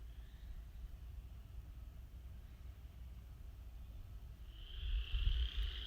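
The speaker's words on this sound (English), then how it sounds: "Here we can hear some chorus frogs singing not too far away." Chorus frogs calling in a flooded swamp bottomland, a faint, far-off raspy trill rising in the last seconds over low rumble and steady background hiss.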